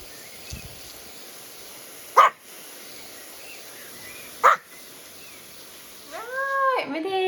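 A dog lets out two sharp, isolated barks a couple of seconds apart, then breaks into a short burst of high, wavering whining near the end, all fairly faint against a quiet room.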